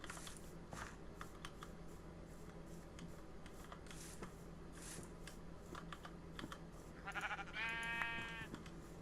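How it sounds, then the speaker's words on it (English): Synthetic Minecraft sheep bleats ring out several times over a steady clicking of computer keys, with one longer, louder bleat near the end. "Oh, more sheep"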